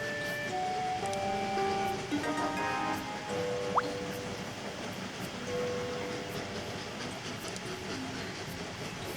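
A train rolls along steadily in the Train Valley sandbox game, a continuous rail rumble with clickety-clack texture and a few soft tonal chimes and a brief whistle-like blip partway through.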